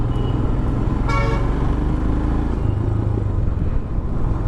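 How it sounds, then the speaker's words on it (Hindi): A car horn honks in a short burst at a busy city intersection, standing out over steady loud road traffic and engine rumble. "थोड़ा सा गाड़ी वाले को हॉर्न देते हुए"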